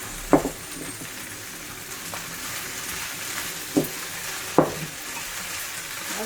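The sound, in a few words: frying char kway teow flat rice noodles with onion leaves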